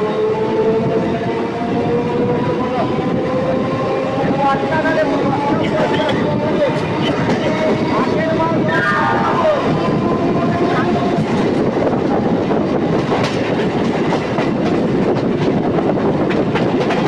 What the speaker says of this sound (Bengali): ট্রেনটি ছেড়ে দিয়েছে রিষড়া স্টেশন থেকে।